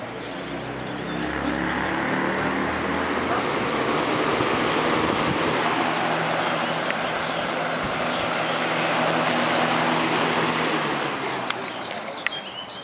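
A 1980s Edison Infinite Speed box fan runs at a slow setting, giving a steady broad whoosh of moving air over a low motor hum that holds constant throughout.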